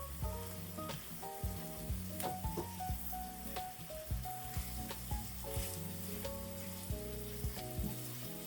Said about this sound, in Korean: 양념장이 바글바글 끓어오르면 준비된 당면을 넣고 양념이 당면에 잘 배어들 수 있도록 2~3분간 골고루 볶아줍니다.